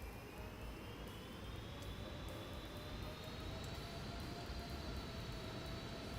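Airbus A380 reverse thrust in the Aerofly FS4 flight simulator: a steady, loud jet-engine roar with a slowly rising whine, continuous throughout.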